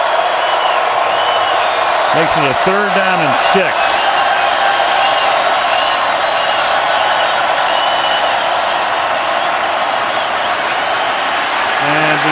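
A packed stadium crowd roars loudly and continuously throughout a Packers at Saints NFL football game, a dense wall of noise with a commentator talking over it.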